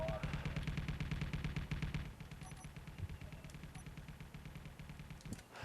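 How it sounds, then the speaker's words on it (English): A 23mm gun in the Space Engineers video game fires in a rapid, steady automatic stream of loud shots that keeps going throughout, with a slightly lighter tone partway through. "this 23mm gun does a lot of damage"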